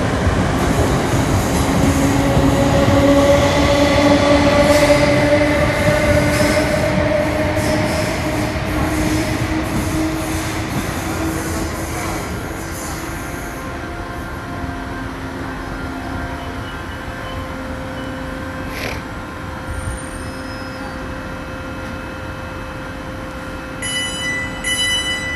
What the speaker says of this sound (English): The train now approaching platform 2.